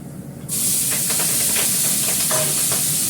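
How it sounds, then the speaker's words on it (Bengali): Fish dropping into hot oil in a steel wok after a black cumin tempering bursts into a loud, steady sizzle and hiss, close and continuous with faint crackles, no talk. "কালো জিরে ফোড়ন দিলাম, এবার আমি এগুলো দিয়ে দেবো।"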